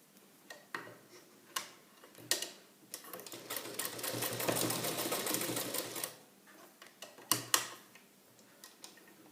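A sewing machine stitches a blouse lining near a dart, with a few short clicking bursts, then a steady whirring run of about three seconds, followed by more brief stops and clicks.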